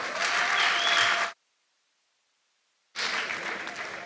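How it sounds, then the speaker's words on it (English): Audience applauding the board of the Development Bank of Namibia at its 20th anniversary event, a dense round of clapping that stops abruptly, leaving a gap of silence before the clapping returns just as strongly. "So can we give the board, please, a round of applause?"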